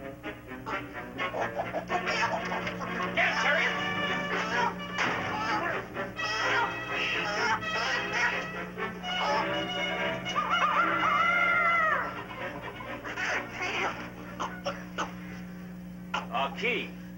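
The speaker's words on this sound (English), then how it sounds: "He must have planted the roosters in our duffel bags" Roosters crowing and hens clucking as a radio drama sound effect, with repeated crows and squawking close by over a steady hum, and voices talking at times.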